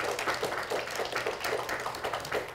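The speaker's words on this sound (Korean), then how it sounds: "큰 박수로 윤봉효 소장님을 맞이해 주시면 감사하겠습니다" Steady audience applause in a conference hall at a nuclear power industry forum, dense, even clapping from a seated crowd welcoming a speaker, moderately loud and continuous with no talk.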